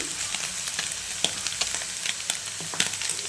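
Capsicum and eggplant frying in oil in a pan, a steady close sizzle crackling throughout with small pops and occasional sharper ticks as the vegetables spit, no talking.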